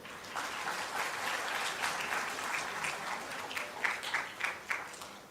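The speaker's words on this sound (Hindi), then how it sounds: "मैं आप सभी से आग्रह करूंगा कि तालियों से अतिथियों का स्वागत करेंगे।" An audience at a rural development conference session in Raipur, India, applauds to welcome guests, a moderately distant, continuous patter of many hands that grows slightly more uneven and punchy toward the end.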